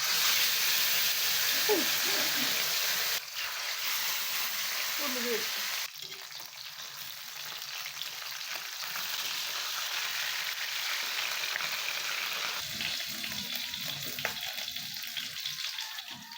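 Garlic frying in hot cooking oil in a home kitchen, a dense continuous sizzle and hiss with occasional stirring scrapes, fairly close, with no talking.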